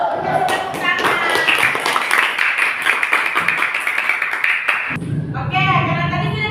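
Elementary schoolchildren in a fifth-grade classroom clap in quick, patterned rounds for several seconds, crisp and close, while voices chant and talk alongside and after the clapping.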